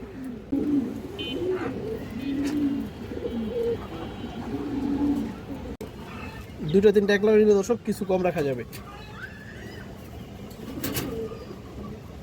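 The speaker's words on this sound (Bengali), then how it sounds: "মাশাআল্লাহ অনেক সুন্দর একটা কবুতর" Pigeons at a bird market coo in rolling bursts close by, with a louder, busier flurry of calls midway, while someone talks over them throughout.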